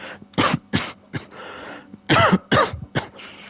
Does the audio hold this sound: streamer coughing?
yes